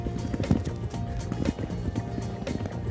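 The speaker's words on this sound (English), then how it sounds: "Horses starting to get really tired here, Richard." Racehorses galloping over jump fences in the Cheltenham Gold Cup steeplechase, with steady drumming hoofbeats and a loud crowd-like rumble running throughout, close and continuous.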